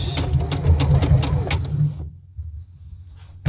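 A sewing machine runs a back stitch on a dress, whirring steadily and close for about two seconds before stopping, leaving near silence.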